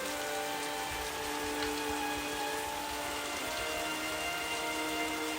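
Steady rain falling on a surface, a continuous dense patter with no pauses, even in loudness throughout.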